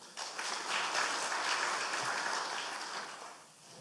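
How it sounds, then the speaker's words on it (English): A crowd applauds graduates at a graduation, licensing and ordination ceremony, a steady wash of clapping that swells early and holds for several seconds before tapering slightly. "do another big applause for all of our graduates"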